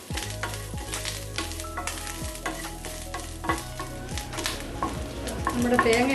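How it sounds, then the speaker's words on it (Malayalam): Grated coconut being roasted in a pan for Kerala-style pumpkin erissery: steady close sizzling with rhythmic spatula scrapes and stirring clatter throughout, growing slightly louder near the end. "2 to 3 ടേബിൾ സ്പൂൺസ് തേങ്ങ, അതും കൂടെ ഇട്ട് വറുത്തെടുക്കണം"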